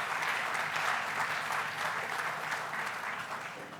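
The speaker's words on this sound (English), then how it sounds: "Let's give a big round of applause to the entire Tribeca team" A large audience at a Tribeca Film Festival luncheon claps steadily for the Tribeca team, a dense, sustained wash of applause from start to finish that eases slightly at the end.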